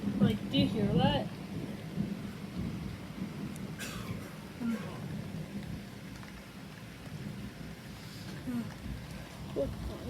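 Thunderstorm at a house with heavy rain, a soft steady wash of rain and low rumbling thunder in the background, while a person speaks briefly near the start.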